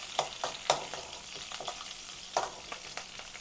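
Cumin seeds and garlic fry in a pan of oil for a puffed-rice snack, a steady close sizzle broken by sharp spitting pops and a few light stirring scrapes, with no voices.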